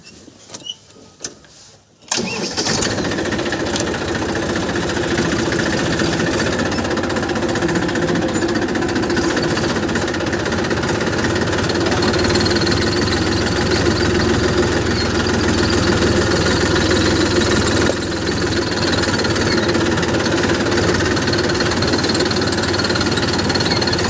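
A farm tractor's engine runs close by, a loud, steady knocking diesel chug that starts abruptly after a short quiet moment and continues unbroken, with no talk.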